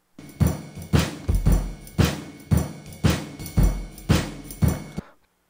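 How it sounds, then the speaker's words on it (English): Akai MPC 1000 drum machine playing a steady beat of punchy kick and crisp snare hits with roughly regular spacing, loud and alone with no voices, ending in a brief silence. "So the MPC 1000 here is supplying the drums."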